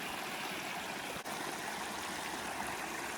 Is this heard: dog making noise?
no